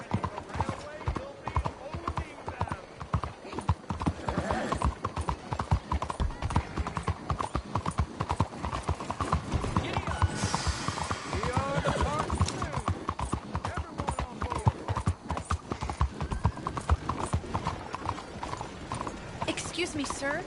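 Horses in Red Dead Redemption 2 clip-clopping in a steady run of hoofbeats, with a whinny partway through, amid game ambience and characters talking over it.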